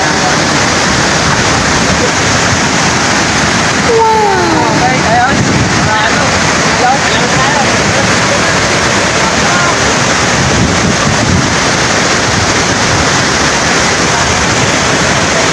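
Hulugan Falls pours down in a loud, constant rushing roar mixed with wind buffeting the microphone. A brief whistle-like chirp cuts in near the start.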